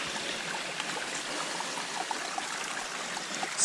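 Water runs steadily from a spring on a farm, a continuous close trickling and gurgling stream with small bubbling pops throughout and no talk.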